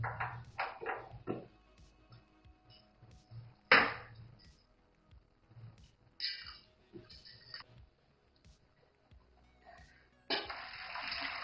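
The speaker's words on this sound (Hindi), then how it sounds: "अब हम इसे छलनी में उतार के इसका पानी निकाल लेंगे।" Cooked rice is drained through a strainer: water splashes and pours in short intermittent bursts, with clattering and quiet gaps between, ending in a steadier rush of draining water.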